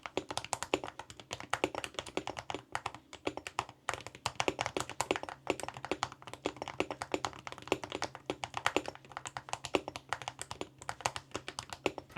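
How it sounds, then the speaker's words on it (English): Dense, rapid typing on a custom Wooting 80HE gaming keyboard with a zinc alloy case fitted with metal keycaps, giving a continuous stream of sharp, bright clicks and taps up close, with no talking. "And here is what it sounds like with the metal keycaps."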